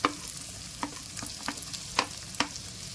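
Onion, capsicum, green peas and carrot sautéing for white sauce pasta: a soft continuous sizzle punctuated by about six sharp spatula taps and scrapes against the pan at an uneven rhythm, close and without voices.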